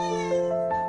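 A stray cat gives a single drawn-out, close, clear meow whose pitch shifts slightly partway through, with no voices over it.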